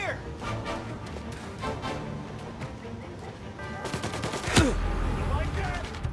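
Gunfire in the Mafia Definitive Edition video game: a busy burst of rapid shots and crackling volleys over a dense mix of game sound, with a whooshing sweep near the end.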